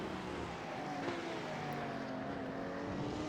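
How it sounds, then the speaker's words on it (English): Porsche race cars at Misano brake into a corner, a constant distant engine roar with a faint falling whine of downshifts spread evenly through the stretch. "As they head into the braking section, the Porsche showing his superior braking prowess."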